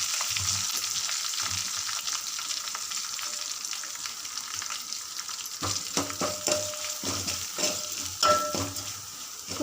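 Dried red chillies, curry leaves and freshly pounded masala frying in hot oil, a continuous crackling sizzle broken by louder stirring scrapes and pops in the second half, close up with no talking.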